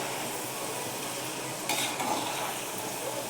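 Chana dal and moong dal frying in hot oil, a dense even crackling sizzle throughout with a brief stir of the pan partway, no talk.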